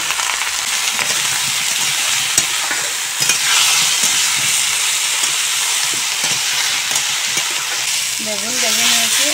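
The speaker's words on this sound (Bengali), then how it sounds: "সামান্য হলুদ গুঁড়া আর সামান্য লবণ দিয়ে বেগুন ভেজে নেব।" Eggplant frying in oil with turmeric and salt, a loud continuous sizzle with occasional stirring clatter and a faint tonal hum near the end.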